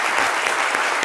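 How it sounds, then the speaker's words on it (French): An audience applauds loudly at a live midday show, dense, continuous clapping close by for the whole moment, with no speech over it. "merci de les applaudir très fort"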